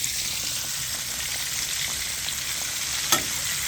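Chicken pieces deep-frying in hot oil, Kentucky fried chicken style, give a steady close sizzle and crackle throughout, with one brief sharper pop near the end.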